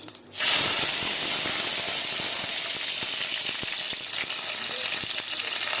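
Curry leaves drop into hot oil with spluttering cumin, setting off a loud, dense burst of frying hiss and crackle that stays steady and close, with scattered sharp pops through the sizzle.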